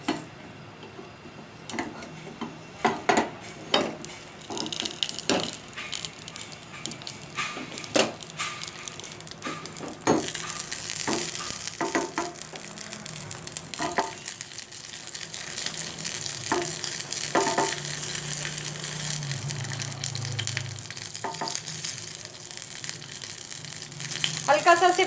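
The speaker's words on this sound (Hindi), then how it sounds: "इसमें ये तीनों ग्रीन चिल्लीज डाल के इसको 2 मिनट फ्राई कर लेंगे आप ग्रीन चिल्ली को" Three green chillies frying in a tablespoon of oil for a smoky coriander chutney: a close, steady sizzle with crackles and light clicking taps, swelling louder and hissier partway through.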